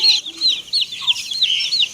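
Hens and chicks cluck and chirp in quick, overlapping high calls near a veranda where poultry and ducks are fed in the morning, close and fairly loud with no talk.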